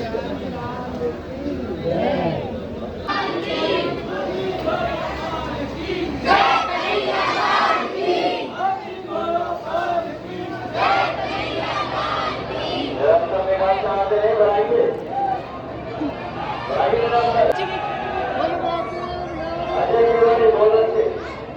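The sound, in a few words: large crowd at Banke Bihari temple, Vrindavan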